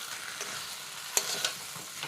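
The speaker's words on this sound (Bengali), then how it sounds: "ভেজে নেব, ভালোভাবে ভেজে নেব।" Potatoes from the home field fry in a pan with a cumin spice paste for aloo dum, a soft steady sizzle with a few sharp scraping stirs of the spoon against the pan, close and alone.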